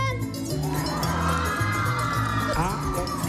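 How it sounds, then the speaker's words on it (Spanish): A studio audience on a Mexican comedy game show cheers and shouts loudly for a contestant. The crowd noise stays dense and continuous, with whoops rising over it throughout. "el aplauso para Cristian."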